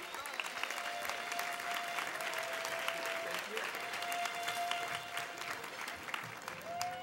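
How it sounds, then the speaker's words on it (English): An audience applauds at an Emmy awards ceremony. The clapping is continuous and full, with a few faint voices in the crowd and a brief tone running underneath. "Nice round of applause."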